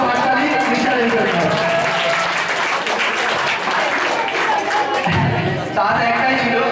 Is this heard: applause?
yes